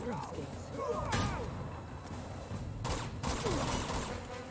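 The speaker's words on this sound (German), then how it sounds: "Ach, da haben wir noch mehr Schüsse." Gunfire in the video game Uncharted 2: Among Thieves, a few sharp bursts of shots against rumbling background action, fairly faint overall.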